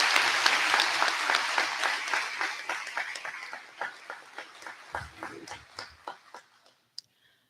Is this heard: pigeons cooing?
no